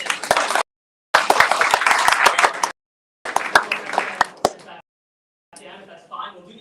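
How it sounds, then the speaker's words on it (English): Applause for a panel at a professional meetup: a modest crowd claps in bursts broken by abrupt gaps, with distinct individual claps standing out, then thins out as a voice begins talking. "Give them a round of applause."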